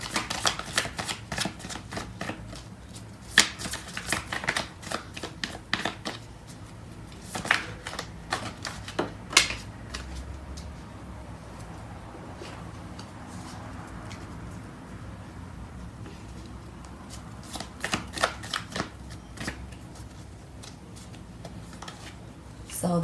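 Tarot cards shuffled by hand, a long run of quick papery riffles and slaps with short pauses between bursts, steady and close throughout.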